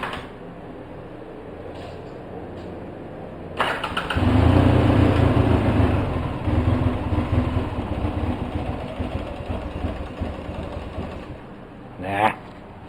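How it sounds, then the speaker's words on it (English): A 2004 Polaris Sportsman 700 ATV with a carburetor boot problem starts and settles into a rough, uneven idle, loud and close, with someone talking briefly over it. "So I guess I'll just let her keep running."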